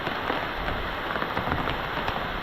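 Heavy rain pours down at a rural homestead beside large trees, a dense, steady roar with scattered drop impacts and no voices.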